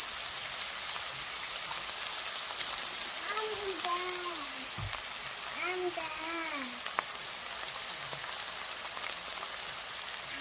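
A burger patty sizzles in a home frying pan with a steady, close hiss, while a few short voiced sounds rise and fall over it midway through.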